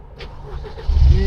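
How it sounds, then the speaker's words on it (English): A car engine in a camper van cranks and catches near the end, rising into a loud low rumble after a short quieter lead-in. "Right, can you turn the car on?"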